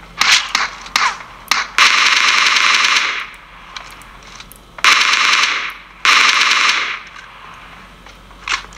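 Automatic gunfire comes from a mobile shooter game played on a Red Magic 3 phone with a gamepad: loud rapid bursts lasting one to two seconds, separated by short pauses and a few single shots.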